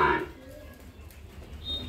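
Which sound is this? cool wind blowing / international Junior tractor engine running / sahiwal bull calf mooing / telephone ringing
sahiwal bull calf mooing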